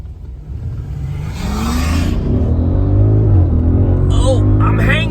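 An Audi SQ7 and an Audi RS5 pull away hard from a traffic light, a close, loud engine rumble rising steadily in pitch as the cars accelerate, with brief voices near the end.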